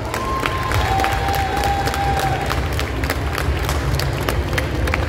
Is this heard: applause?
yes